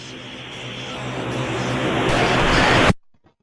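A bass music intro swells as a dense, rising wash of synth and atmospheric noise with a dial-like loop, building steadily louder for three seconds before cutting abruptly to near silence with a couple of faint trailing blips.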